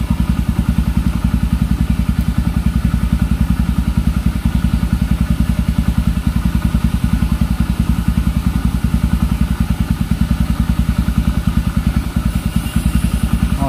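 A 19-year-old Kawasaki Barako motorcycle engine idles nearby with a steady, rapid single-cylinder putter that stays loud and even throughout.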